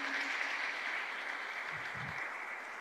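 A crowd applauds at the presentation of the new Porta Elisa stadium for Lucchese, a soft, steady patter of clapping heard from some distance, even throughout with a faint low thump near the end.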